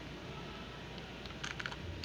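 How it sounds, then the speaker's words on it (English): Computer keyboard typing, a brief cluster of quick clicky keystrokes heard close up over a steady background hum, with no talking. "we are going to type"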